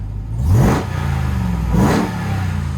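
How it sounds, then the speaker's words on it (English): A supercharged 2022 Ram 1500 TRX pickup truck revs hard twice, the exhaust roaring up and dropping back each time over a steady idle rumble, close and loud. "I'll give you a little bit of an exhaust note"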